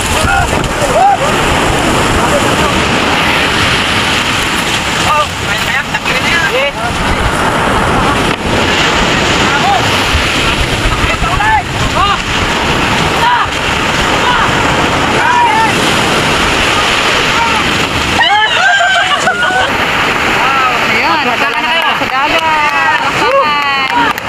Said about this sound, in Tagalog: Nasa tubig na bangka.